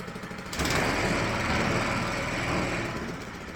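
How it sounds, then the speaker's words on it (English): The motor of a mudskipper twister starts up and runs at a steady, loud hum after a brief quieter lead-in, then settles back slightly near the end with no one talking. "Our motor actually don't sound too bad."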